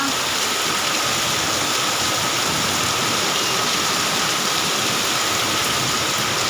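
Heavy rain pours at night in a steady, dense hiss that fills the whole stretch without a break, loud and close, with no voices over it.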